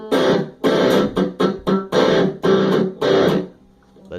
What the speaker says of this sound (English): Oh yeah, we added distortion.